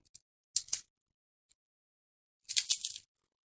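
Crisp crunching bites of homemade fried potato chips in two bursts, with a couple of tiny crackles between, close and dry with silence around them.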